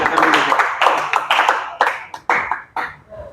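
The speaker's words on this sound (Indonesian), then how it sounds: "Oke, tepuk tangan" A small church congregation claps for a few seconds, the bursts thinning into scattered, separate claps before fading out, close by.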